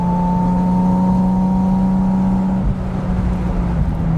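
A Porsche Spyder RS with a naturally aspirated engine holds a loud, steady rev, its tone sustained and near, then easing slightly partway through before carrying on.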